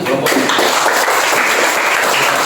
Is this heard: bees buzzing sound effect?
no